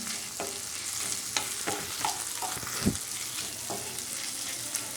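Chopped carrots, garlic and ginger fry in a pan with a steady close sizzle, broken by a few stirring knocks and scrapes of a utensil.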